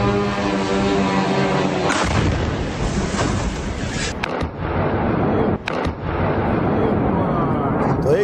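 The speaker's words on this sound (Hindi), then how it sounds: "तोप के जरिए इन सैन्य ठिकानों को पलक झपकते ही नेस्तनाबूद कर दिया गया" Artillery cannon fire pounds military targets in the Russia-Ukraine war: loud, dense rumbling blasts roll continuously, with sharper cracking impacts standing out partway through and near the end.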